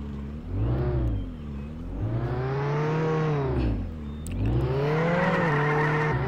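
A car drives in the Roblox Jailbreak video game, its engine loud and close with rising and falling revs in repeated swells, a faint tire whine on top.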